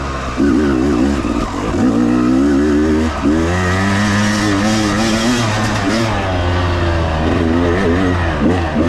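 A Yamaha YZ250 two-stroke dirt bike with KYB SSS forks rides a lap, its engine buzzing loudly and rising and falling in pitch as the rider works the throttle, close and continuous.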